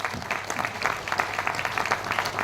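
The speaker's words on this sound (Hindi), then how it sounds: "खूब जोरदार तालियों के बीच।" An audience at a seminar in Ahmedabad, Gujarat, applauds in a short burst of dense, overlapping hand claps. The clapping is steady and moderately loud from start to finish.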